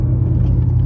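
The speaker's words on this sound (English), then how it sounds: "it sounds real rough when I'm cornering, just kind of like a grinding noise" A Ram 1500 pickup with a bad CV joint makes a low, steady rumbling grind while cornering, loud and continuous in the cab with no talk over it.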